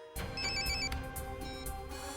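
An electronic telephone ringtone chimes steadily for about two seconds, loud and close, after a brief quiet start.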